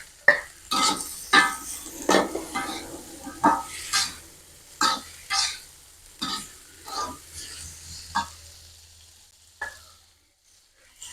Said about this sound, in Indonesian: Oseng-oseng. Masukin kacang panjangnya.